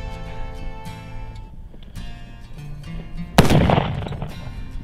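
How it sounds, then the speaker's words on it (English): A Cimarron Model P revolver firing black powder loads at about 20 yards, one sharp loud shot with a booming tail heard outdoors over a humming background. "We are shooting black powder loads."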